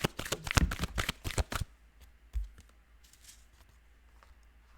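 A deck of tarot cards is riffled and shuffled in a rapid, close, crisp burst for about a second and a half, followed by quiet handling sounds and a soft tap.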